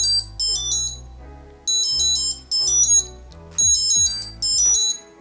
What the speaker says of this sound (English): that is basically what the sound sounds like.